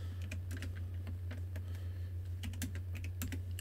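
Computer keyboard typing commands into a text-based adventure game such as Zork, quick irregular clicks and clacks close up over a constant low electrical hum.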